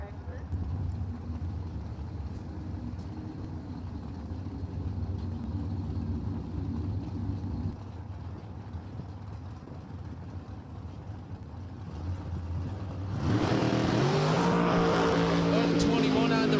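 Top dragster drag race run at Empire Dragway, a race car engine droning steadily before rising into a loud, harsh roar near the end, with talk over it.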